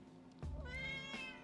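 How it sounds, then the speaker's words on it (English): A cat meows a few times at close range, the calls rising and falling in drawn-out, wavering tones after a quiet start. "Meow, meow, meow, meow, meow, meow, meow. I got her to do it a couple of times."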